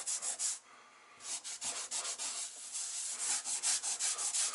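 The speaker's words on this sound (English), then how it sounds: "Start knocking all your little things out to go over and clean off any grout that you have on your tile." Fresh grout is scrubbed off newly laid bathroom tile, producing quiet, close, rhythmic rubbing strokes in quick repeated bursts.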